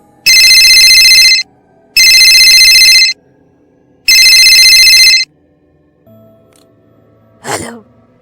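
A phone rings three times in loud, bright electronic bursts of about a second each, separated by short silences, followed by a faint hum and a brief voice-like sound.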